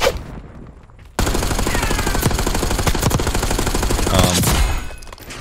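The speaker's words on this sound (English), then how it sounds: "That's a lot of gunfire going on over here" Sustained automatic rifle fire in a Black Ops 6 multiplayer match, a dense rapid burst rattling nonstop for several seconds after a brief quiet start, loud and close with overlapping shots.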